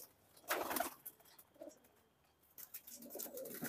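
Dubwale pigeons give a few soft, low coos, close by but quiet, with a brief louder rustle near the start.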